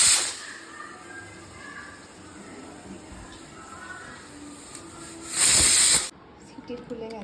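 A pressure cooker on a kitchen stove lets off a bright, forceful steam whistle near the end, a loud hissing burst lasting under a second after a quieter stretch of low background hiss.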